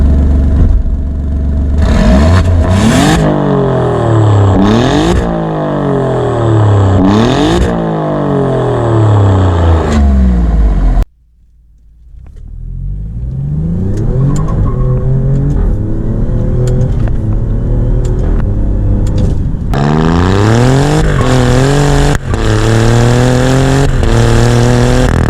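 An Alfa Romeo Giulia Quadrifoglio engine revs hard through several gear changes under full acceleration, the loud pitch climbing and dropping in repeated sweeps, with a brief lull before it pulls again with no talking.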